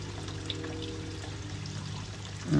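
Soft, steady trickle of water pouring from a traditional-style shower feature at a koi pond, faint and continuous, with a brief louder bump at the very end.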